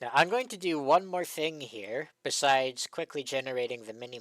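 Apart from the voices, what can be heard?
No distinct noise like a dog, phone or traffic.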